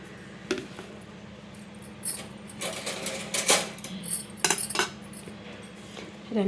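Light metallic clinks and rattles of a lid being set onto a cooking pot in a home kitchen, several faint scattered taps and scrapes over a low background hum, no talking.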